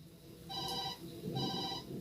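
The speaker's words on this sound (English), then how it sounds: "And there goes the phone again." A phone rings in the Tokyo Dark Remembrance video game, two short trilling bell bursts over a steady low background hum.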